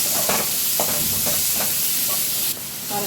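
Finely chopped onions fry steadily in a pan, a continuous sizzle and hiss with faint scraping stirs, close and even, with no talking.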